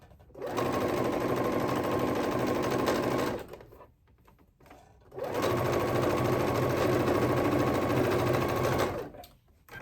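A sewing machine stitches fabric along a 5/8 seam allowance on a summer dress, running in two steady bursts of about three and four seconds with a short pause between, loud and close.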